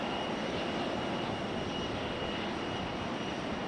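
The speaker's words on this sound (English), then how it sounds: "Got that American E-175 out there at the end of the runway, about to depart" An American Embraer E-175 regional jet sits at the end of the runway at Raleigh-Durham International, its engines giving a steady, broadband roar that holds evenly throughout at moderate distance.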